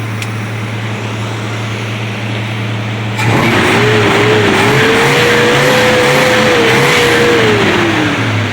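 A 383 big block Mopar engine in the General Lee car idles, then is revved hard and held high, its loud exhaust roar rising and sustained close by, with no talk.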